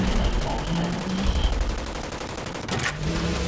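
Rapid automatic enemy gunfire in the first-person shooter Wolfenstein: The New Order, a dense continuous rattle of shots layered over game music and ambience, loud and steady throughout.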